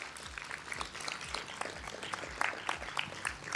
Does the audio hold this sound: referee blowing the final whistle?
no